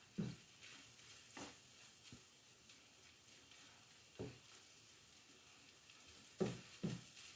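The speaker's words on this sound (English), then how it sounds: "Cooking up some smoked sausage" Smoked sausage fries quietly in a pan, a soft low sizzle broken by several distinct scraping and tapping sounds from stirring, two of them close together near the end.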